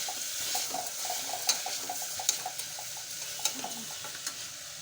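A spoon stirs tomatoes with salt, turmeric powder and sugar in a hot pan. A steady, fairly quiet frying sizzle runs throughout, broken by irregular soft scrapes and light taps of the utensil against the pan, with no voices.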